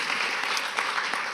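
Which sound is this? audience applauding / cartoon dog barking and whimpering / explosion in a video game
audience applauding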